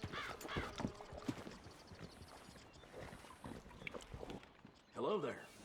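Horse hooves clip-clop in a video game, faint and irregular beneath background ambience and wind, with a brief whinny near the end while characters talk.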